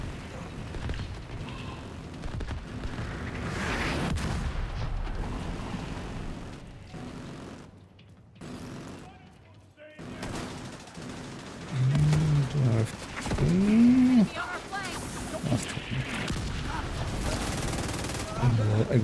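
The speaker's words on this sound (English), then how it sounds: "Mortars on the roof, and you've got a lot of hostiles ahead. But it looks like the smoke's working. The autocannon seems to be firing blind." Video game battle with autocannon and mortar fire, a dense, continuous barrage of gunfire and booming blasts through most of the stretch, briefly thinning in the middle, with voices talking over parts of the combat.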